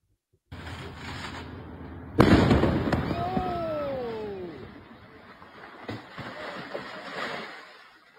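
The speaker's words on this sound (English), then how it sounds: "Let's go ahead and take a listen to how this explosion sounded." A real explosion: low ambient noise gives way to one sudden, loud, close blast, followed by a long rumbling roar that slowly fades, with rising and falling tones and smaller bangs later on.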